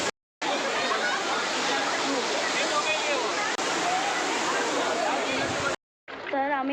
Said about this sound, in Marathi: तर आम्ही आता वरनं खाली आलो आहे धबधब्यात